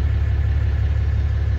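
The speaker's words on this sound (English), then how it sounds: "As you can hear it, it's a pretty quiet truck." A 2008 Dodge Ram 3500 Mega Cab Dually 4x4 pickup truck engine, stock, idles close by with a steady, low rumble and an even rhythmic throb, with no voices.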